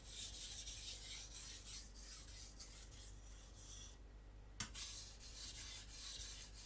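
A Takamura Migaki R2 gyuto knife is drawn across a whetstone under light pressure, making continuous close rasping strokes in a steady back-and-forth rhythm, with a brief pause and a single click midway.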